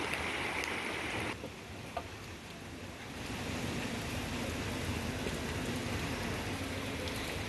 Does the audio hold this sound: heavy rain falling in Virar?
yes